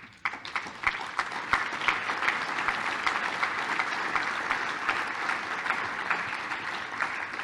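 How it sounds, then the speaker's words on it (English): Audience applause at a regional growth and mobility event as board members stand to be recognized, a sustained steady clapping from a large crowd lasting several seconds. "Let us give you an applause."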